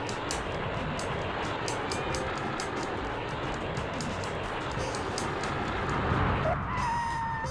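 Train rushing past in the PlayStation game Looney Tunes: Sheep Raider, a sustained loud rumble with rhythmic clatter that swells near the end before a sharp high tone.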